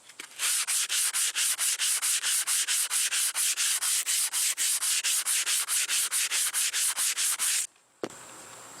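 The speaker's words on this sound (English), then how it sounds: "wrap some 80 grit around this block and start blocking it" Rhythmic back-and-forth scraping of an 80-grit sanding block on a fiberglass dashboard, about thirty even strokes, loud and close, then stopping abruptly.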